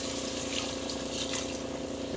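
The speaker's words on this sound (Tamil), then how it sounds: "ஸோ தண்ணி வந்து தேவையான அளவுக்கு வந்து தண்ணி விட்டுக்கோங்க." Water is poured into a cooking pan, a steady continuous gushing and trickling heard close and fairly quiet with no talk.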